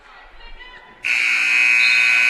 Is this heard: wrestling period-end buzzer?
yes